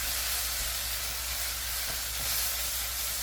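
Onions stir-fry for japchae in a pan with a loud, continuous hissing sizzle that holds steady throughout. No one speaks.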